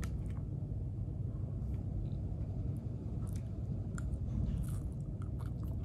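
Close, steady chewing of vermicelli noodles from a quarantine hotel breakfast, soft wet mastication with faint crunches over a constant low room rumble, no talk.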